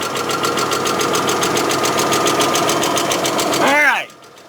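V6 engine of a 2000 Hyundai Sonata GLS idling with a steady, even hum and faint knocking pulse for about four seconds, then cutting off abruptly into near silence.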